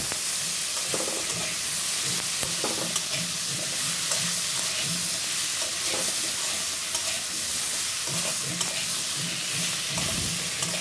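Papaya pieces frying in hot oil with crushed ginger give a steady, loud sizzle throughout, with soft stirring scrapes now and then and no voices.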